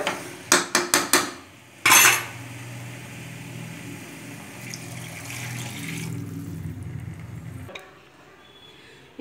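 A metal pressure cooker being shut and its whistle weight fitted while country chicken rasam cooks: a quick run of sharp metallic clanks, one heavier clatter, then a steady low simmering hiss that ends with a faint click.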